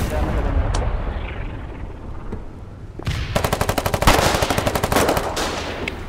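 Loud rapid bursts of automatic gunfire in the war video game Foxhole, near and dense, coming after a few seconds of rumbling battlefield noise and isolated shots, with the rattling fire continuing to the end.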